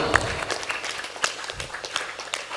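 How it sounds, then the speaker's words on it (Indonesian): Applause for group 2 at a pesantren creativity competition, a brief burst of scattered hand clapping from a small crowd with irregular claps and some voices mixed in. "Tepuk tangan untuk kelompok 2."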